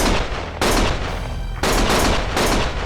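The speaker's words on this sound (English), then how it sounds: "Stop shooting!" Heavy automatic gunfire from the video game Lost Judgment roars in long, loud continuous bursts separated by brief lulls, with no talk over it.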